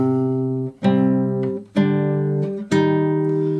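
A plucked fingerstyle guitar melody, the God of War main theme, with ringing sustained notes, played in three or four distinct phrases, each new attack bright and clear, with no voices.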